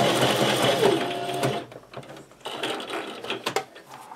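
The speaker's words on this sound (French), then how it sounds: "Je vais venir effectuer un point zigzag sur toute la longueur de mon tissu au ras du bord." Sewing machine running a zigzag stitch along the edge of a tote bag fabric, a fast mechanical chatter in close-up that pauses briefly, then resumes in short bursts.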